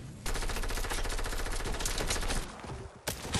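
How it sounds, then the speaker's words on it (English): Rapid automatic gunfire in the video game Fortnite, with dense bursts of shots rattling almost nonstop at close range, a brief lull near the end, then firing again. "They're shooting up high."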